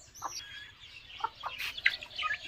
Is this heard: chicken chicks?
yes